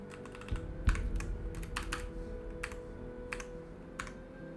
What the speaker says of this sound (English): I'm sorry that my keyboard is so loud.